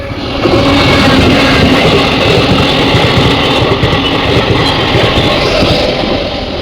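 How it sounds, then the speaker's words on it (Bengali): A DEMU train passes near Chalsa with a loud, close, continuous rumble and rattling of wheels on the rails, a dense roar that holds steady the whole time with no voices. "দেখো ট্রেন কীভাবে আসছে"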